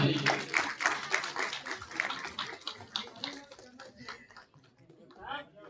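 Loud clapping from a farewell-event audience in Azamgarh, heard as dense bursts of claps that rise and fall, mixed with voices talking over and between them.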